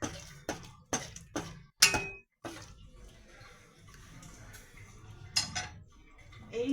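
Poppy seed paste being stirred into a simmering potato curry in a pan, with sharp spoon clatters and scrapes against the metal early on, then softer bubbling and shuffling, no voices.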